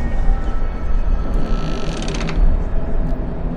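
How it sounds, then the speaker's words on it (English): A door in the Erica video game creaks open with a mechanical, ratcheting groan, loud and close, running for several seconds with no talking. "Why do I have to keep opening the door?"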